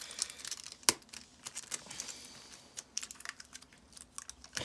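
Adhesive tape crinkles and tears while being handled on an FPV drone battery during a 4S-to-3S conversion, with a sharp crackle near the start and soft, scattered rustles and ticks that continue close up and quiet, with no talking.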